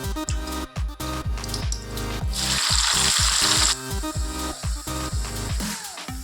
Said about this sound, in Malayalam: നൈസായിട്ട് കട്ട് ചെയ്ത് വെച്ചിരിക്കുന്ന നമ്മുടെ സവാള നമുക്കൊന്ന് വറുത്ത് പോരാനുണ്ട്